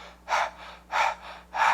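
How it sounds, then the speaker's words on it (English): Panting breaths for a singing breathing exercise: three loud, breathy bursts spaced evenly about every 0.6 seconds, close to the listener with no talking. "So the other one is panting."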